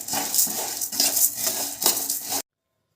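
Sago pearls stirred while frying in a pan, giving repeated metallic scrapes and rattling clinks of a spoon against the pan in uneven strokes for about two seconds before cutting to silence.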